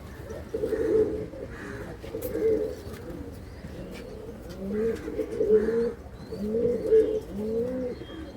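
A pigeon brought from Kozhikode coos close by in repeated rolling bursts, the low throaty calls rising and falling over about eight seconds with no one talking.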